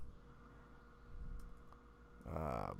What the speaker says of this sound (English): Sorry, I'm typing to